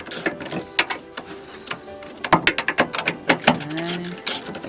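A ratchet spins off nuts holding a Mitsubishi L200 tailgate brake light cover, with quick bursts of sharp, close metallic clicking in irregular runs and short pauses between them.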